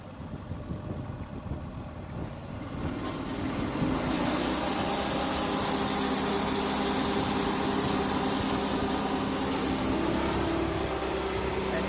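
A Norwood sawmill's engine revs up from idle and its blade drives into a log, a steady loud mechanical drone that swells after a few seconds and holds through the cut.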